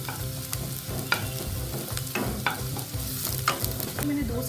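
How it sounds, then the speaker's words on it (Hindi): Onions frying in a pan for egg fried rice, a steady soft sizzle with intermittent sharp stirring scrapes and clinks, close and fairly quiet with no talking. "और इसे अच्छी तरह से गोल्डन ब्राउन फ्राई करेंगे क्योंकि प्याज जब अच्छे से गोल्डन ब्राउन फ्राई हो जाती है"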